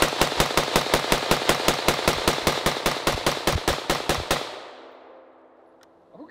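A rifle fitted with a muzzle brake or flash hider fires a rapid, evenly spaced string of about twenty loud, close shots over four seconds, then the echo fades into quiet.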